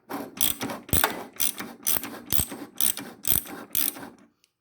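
The drive shaft of a self-propelled lawn mower that is failing to propel clicks and ratchets as it turns, nine or so rhythmic grinding bursts at close range before stopping.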